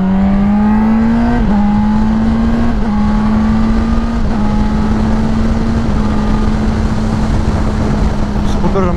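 Car driving on the road, engine hum steady and close throughout with a few gear shifts marked by brief drops in pitch, loud constant road and cabin noise.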